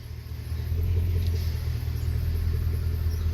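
A 2003 Suburban engine runs steadily with a low, droning rumble while power steering oil is forced over the pressure relief valve with the wheel at full lock, giving a faint continuous whine above the hum.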